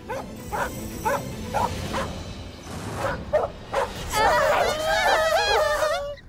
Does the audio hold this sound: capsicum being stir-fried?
no